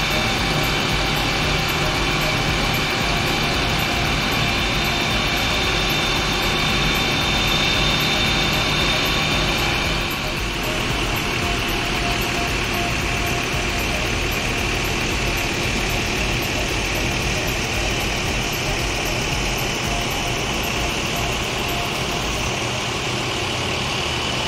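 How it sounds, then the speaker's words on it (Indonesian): The boat ANS Sayonara, stranded at the Muara Bungo river mouth and in trouble, has its engine running at idle, a loud, steady drone that continues without a break. People talk over it. "Ini udah hidup nih mesin dari ANS Sayonara."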